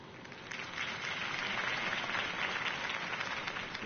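A crowd applauds after a campaign speech, many hands clapping in a dense, sustained wash that swells after the first half second and holds steady, somewhat distant and moderately quiet.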